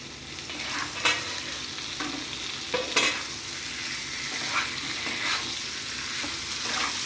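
Boiled potatoes being stir-fried with spices for an aloo dum, a steady sizzle with a few sharp scrapes of a spatula stirring through the pan.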